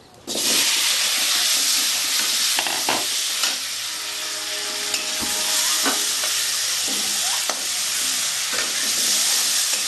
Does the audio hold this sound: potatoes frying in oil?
yes